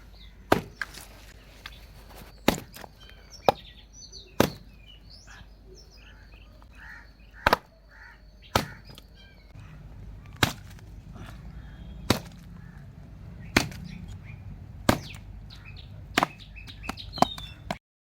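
Sharp, evenly spaced cleaver chops on country rooster meat being cut into small pieces, about a dozen loud knocks ringing out over quiet background noise.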